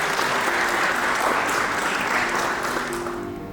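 An audience at a university anniversary thanksgiving service applauds in a sustained, dense wash of clapping that stays loud throughout and eases slightly at the end.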